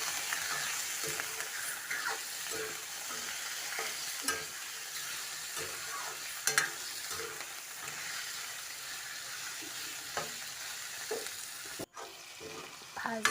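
Pork fries in a pan as it is stirred, giving a quiet, steady sizzle broken by scraping and stirring knocks, with no voices.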